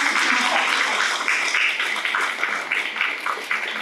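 An audience applauds at a book distribution competition event at KréAsia, a steady wash of many hands clapping at moderate distance with no voices standing out.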